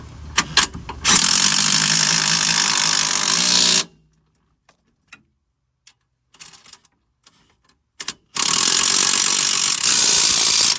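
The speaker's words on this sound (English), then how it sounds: "Let's tighten up these bolts now, the trailing arm bolts." A power tool tightens trailing arm bolts on a Chevy Malibu's rear suspension in loud, close bursts of rattling whirr. A sustained run is followed by a quiet gap with scattered clinks, then another long burst.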